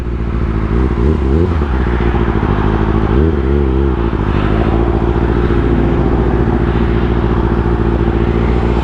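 A Kawasaki ZX6R sport motorcycle rumbles close and loud during slow wheelie practice in a lot, its engine idling and revving in short throttle blips, with a steady drone in between.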